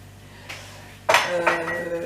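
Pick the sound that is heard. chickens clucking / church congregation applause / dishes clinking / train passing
dishes clinking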